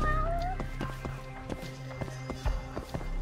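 In the video game Judgment, a cat gives a short rising meow early on, followed by a series of light footsteps tapping in an irregular rhythm against a low background hum.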